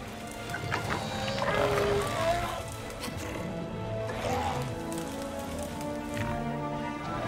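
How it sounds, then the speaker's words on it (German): Rain falls steadily in the dinosaur park of the video game Jurassic World Evolution, a constant soft hiss with faint animal calls rising briefly in the mix. "Sieht schon nice aus mit dem Regen jetzt."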